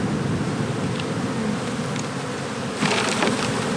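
Honeybees buzzing during a spring hive inspection as frames are lifted and bees are shaken off, a loud continuous close drone with a brief rustle near the end and no talking.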